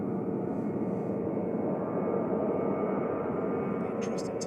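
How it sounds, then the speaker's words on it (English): Jet2 airliner departing Manchester Airport for Lyon, a steady broad engine roar holding level throughout, heard at moderate distance, with faint voices in the background. "This is Jet 2 departing to Lyon, flight 945"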